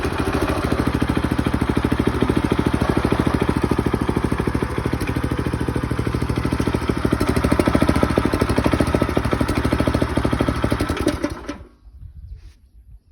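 A 3-inch petrol-engine water pump runs steadily at full throttle, a loud close buzzing drone with a fast regular firing rhythm, then cuts out abruptly near the end and falls quiet.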